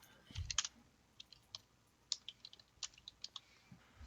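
Scattered keyboard keystrokes, soft and close, tapping in irregular bursts over a quiet room, with a low thump near the start and no talking.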